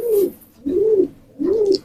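Pigeon cooing three times in a steady rhythm, each coo a low, rolling call close by with short pauses between, no talk.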